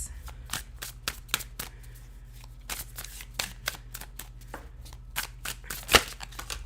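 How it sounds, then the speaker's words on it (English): A deck of tarot cards being shuffled by hand, a steady run of quick papery riffles and slaps close up, with soft card snaps in a quiet room and no talking. "Being a messy shuffler."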